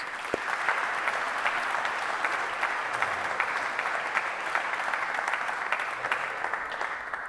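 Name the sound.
graduates' round of applause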